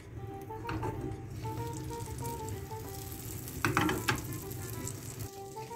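Butter melting in hot oil in a frying pan, a steady, close sizzle and crackle with a brief louder burst partway through.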